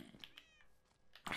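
A cat meows in the Minecraft video game, several short high mewing calls under game sounds, followed by a loud burst of noise at the end.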